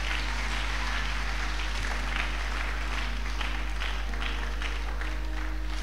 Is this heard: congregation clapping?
yes